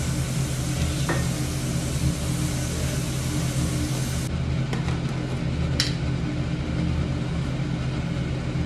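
Onions fry in a pan with fenugreek seeds and cumin, a continuous loud sizzle heard close up, with an occasional stirring scrape and a brief sharper burst near the middle.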